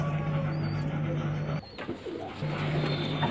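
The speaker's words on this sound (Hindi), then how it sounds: "तो भाई ये कलदुमे कबूतर हैं," Kaldume pigeons coo softly and nearby in low, steady tones, pausing for a moment partway through before the cooing starts again.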